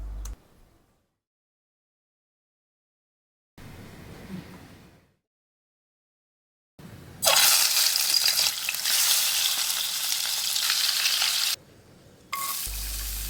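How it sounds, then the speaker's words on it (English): Egg curry paste hits hot oil with a loud, steady sizzle after a few quiet gaps and brief stirring noises, frying continuously with a short dip before resuming. "In some oil, I'll add the paste and cook it till it's dry."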